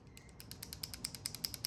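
Small metallic clicks and light rattling from a loose OTF automatic knife blade tick in a quick, uneven rhythm, faint and close, with no talking.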